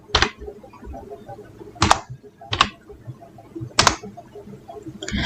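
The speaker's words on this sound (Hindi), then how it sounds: "यहाँ पर टाइप करके ओपन कर लेता हूँ" Typing on a computer keyboard while entering a website address: a handful of sharp, isolated key clicks spaced about a second apart, close and fairly quiet against a faint room background.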